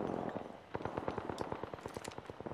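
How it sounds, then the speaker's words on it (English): Rapid bursts of automatic gunfire in the video game Apex Legends, a fast string of sharp shots rattling through the clip at moderate volume with no talk over it. "It's a gunshot."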